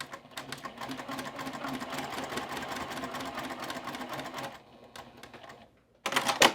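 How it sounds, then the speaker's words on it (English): Domestic sewing machine stitching quilt block pieces together, a steady rapid mechanical chatter running continuously, pausing briefly near the end before a short louder burst of stitching. "sewing along to the other edge, removing the pins as I need to"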